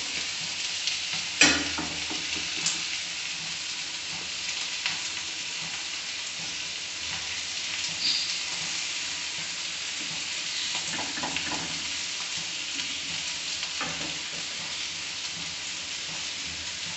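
Potatoes frying in a pan make a continuous loud hiss and sizzle that holds steady from start to finish, with occasional pops and faint stirring clatter.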